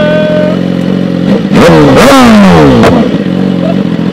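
A BMW S1000RR with a full carbon body, rated at 200 hp, idles loudly close by, then revs hard in quick rising surges before settling back to a rumbling idle.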